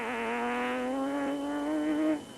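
A rally car at full speed on a dusty Mpumalanga road during the 2005 Toyota Dealer 1000 rally, its engine a loud, sustained, rising drone that drops away abruptly as it passes.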